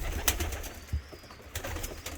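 Pigeons cooing inside a coop of large-winged postal pigeons, soft low coos repeating in short bursts alongside a few sharp clicks and flutters, close and fairly quiet with no talk.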